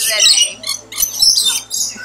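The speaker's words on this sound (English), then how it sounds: "Ooh, they've got a loud squeal." Small parrots at Kuala Lumpur Bird Park let out loud, shrill squeals in several sharp bursts, close by, with some voices underneath.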